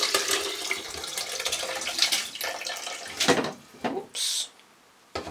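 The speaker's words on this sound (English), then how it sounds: "so I'm going to pour it in here." Nettle soup being poured into a liquidizer, a liquid splashing and gurgling in uneven bursts with short pauses, close by, ending in a last trickle.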